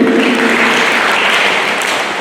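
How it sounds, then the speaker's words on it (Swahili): A church congregation at a PCEA Kikuyu service applauds the pastor and elders, loud continuous clapping from many hands, close and full, tapering slightly toward the end. "tuwapigie makofi mazuri"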